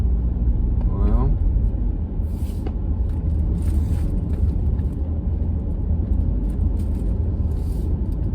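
Low, steady rumble of a car engine and road noise from inside a moving car, continuous throughout, with people talking over it.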